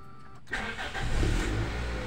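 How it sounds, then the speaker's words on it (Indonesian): Toyota Altis engine turning over on a cold start, with a quiet lead-in followed by a sudden, steady mechanical churn that grows slightly louder and continues without pause. "Ini kalau sudah seperti itu, kita starter lagi, kita coba seperti apa ya."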